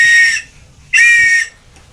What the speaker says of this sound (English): You've got the whistle.